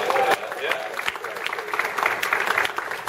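Convention panel audience breaking into a dense, continuous round of applause at Dragon Con, a steady wash of many hands with some crowd voices mixed in.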